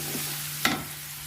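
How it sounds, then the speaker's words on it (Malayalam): Onion softening in oil in a pan, with a steady low sizzle, a faint hum underneath, and one brief clatter of a spoon stirring partway through. "ഈ സവോള ചെറുതായി ഒന്ന് വഴന്നു വന്നാൽ മതി."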